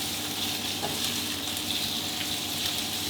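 Shrimp stir-fried on its own in a hot pan for a Thai three-pungent-vegetable stir-fry, giving a steady, close sizzle and hiss without pause and no voices.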